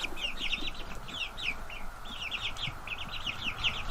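A chicken with a scissor beak gives repeated soft clucks and chirps in quick clusters, steady and fairly close over a low background hum.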